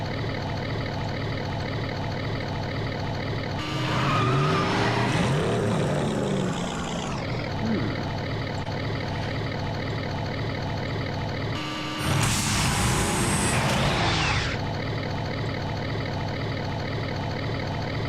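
A DeLorean car engine in a GTA San Andreas mod hums steadily under a constant drone, with two louder, harsher bursts of revving or whooshing noise in the middle, and no talking.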